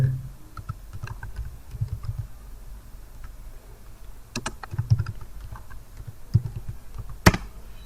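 Typing on a computer keyboard while writing Python code, with short bursts of close key clicks, irregular pauses and a few sharper single taps, no talking.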